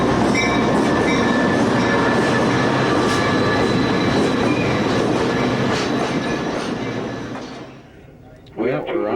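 Amtrak passenger train rolling over rails near Donner Pass, with a loud steady rumble and rhythmic wheel clatter inside the car, under talk, fading down near the end.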